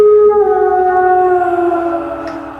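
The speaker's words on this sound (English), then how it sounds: "You hear wolves howl in the distance." Wolves howl in the distance as an eerie horror sound effect, several long overlapping wails sliding slowly downward and layered together, sustained and fairly loud throughout.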